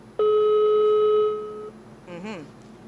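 A loud electronic telephone tone holds steady for over a second, then fades, followed by a short warbling synthetic chirp.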